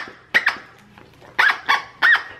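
A turkey-shaped plush football dog toy made by Barking Company gives three pairs of short, loud squeaky honks, fairly close, with quiet gaps between each pair.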